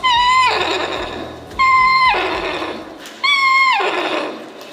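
A person imitates a horse whinnying on stage at a school awards ceremony, three loud, high, wavering neighs in turn, each sliding downward and trailing off, with faint crowd noise between.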